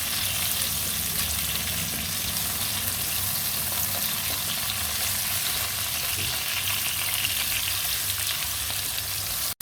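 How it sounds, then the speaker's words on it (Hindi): Half a kilo of taro root fries with onion and garlic in a pan for arvi baingan, a dense, even sizzle that carries on steadily throughout with no voices. "इसको भी मैं प्याज और लहसुन के साथ अच्छे तरीके से फ्राई कर लूँगा"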